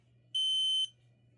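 A smoke alarm system under test gives one loud, shrill, steady electronic beep lasting about half a second, with a faint low hum underneath before and after.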